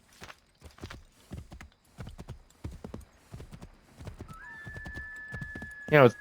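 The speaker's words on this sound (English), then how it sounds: "I'll just take this horse." Rhythmic hoofbeats clip-clop steadily as a horse runs in the video game Assassin's Creed 3 Remastered, and a loud whinny cuts in near the end.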